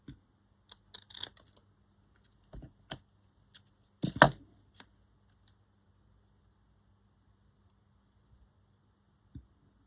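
Scissors snipping postage stamps, a few short, crisp clicks and cuts scattered across a quiet room, with one louder burst of snipping in the middle.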